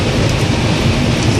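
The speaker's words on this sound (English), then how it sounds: "And it's raining pretty good too." Rain and strong crosswind, about 40 to 45 mph, batter a vehicle driving through a Utah wind storm, making a loud, constant roaring wash of noise with no voices.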